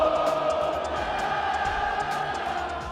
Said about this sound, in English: And a hockey crowd roars with pride